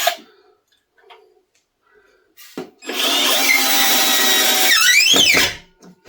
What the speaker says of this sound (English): Sinking some screws.